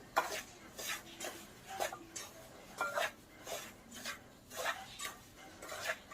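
Desiccated coconut being mixed into a no-syrup rava (semolina) laddu mixture, giving repeated rhythmic scraping and rubbing strokes of a spoon against a dish, close and moderately loud with no talking.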